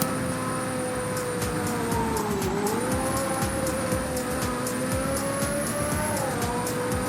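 In the Roblox game Car Crusher 2, a car drives at speed with a steady, moderately faint engine whine that dips and climbs in pitch, over rapid rhythmic ticking and thumps, with no talk.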